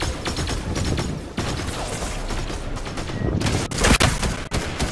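Loud, sustained gunfire from a video game battle, dense bursts of shots crackling nearly continuously with a few sharper, heavier cracks, close and dominant.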